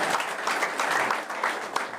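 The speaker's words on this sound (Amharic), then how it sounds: "አጨብጭቡ እስቲ ለኛ አንድ ጊዜ።" A church congregation claps together, a dense, steady burst of applause filling the room at close range, with faint voices mixed into the clapping.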